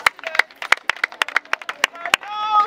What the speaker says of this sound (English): Oh yeah, clap for her.